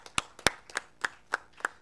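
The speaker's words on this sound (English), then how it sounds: "I think that deserves a big round of applause." Sparse, fairly faint hand claps from a small audience at an academic talk, about seven distinct claps in an uneven rhythm, with no voices.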